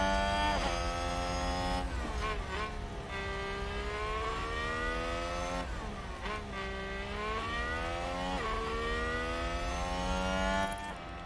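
Race car engines from the video game F1 Manager 2022, one car overtaking another: a continuous loud high-pitched whine that rises and falls with gear shifts, several revving surges across the stretch, with no talk.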